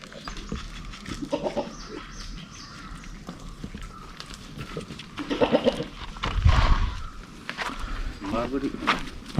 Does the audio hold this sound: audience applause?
no